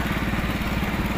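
A tractor engine runs close by in a steady, rapidly pulsing chug that stays loud and even throughout the short stretch.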